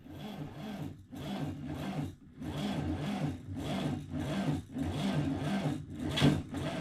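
1972 Volkswagen Beetle engine cranking over on a boosted battery, a fast rhythmic chugging of the starter turning the motor in several long bursts separated by short breaks, close and without talking.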